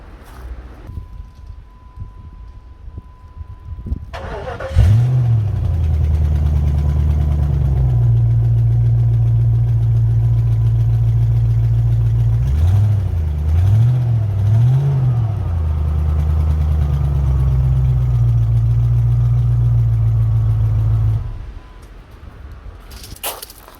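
A PowerTech V8 engine starts and settles into a loud, steady idle, with a few quick revs partway through before it shuts off. No voices are heard.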